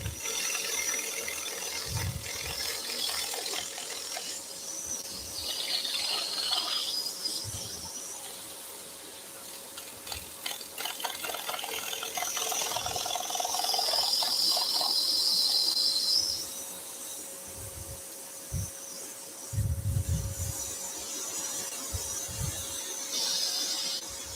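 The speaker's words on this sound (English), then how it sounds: "So that's the extractor just pulling that piece back down." A dust extractor at a woodworking table gives a steady whining drone, broken by intermittent low knocks and clunks from the work piece being handled.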